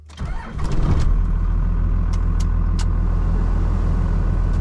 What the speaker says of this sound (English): Let's fire up the 12 valve.